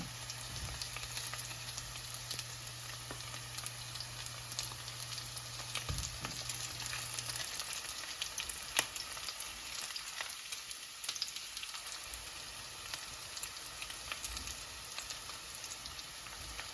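Perogies fry in a pan with bacon and greens, giving a steady, even sizzle that runs the whole time at moderate level, with no talking.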